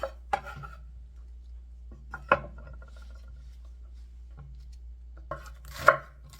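A knife chops Cheongyang chili peppers on a wooden cutting board, with a few separate, sharp, close knocks spaced over several seconds and faint rubbing between them, no talking.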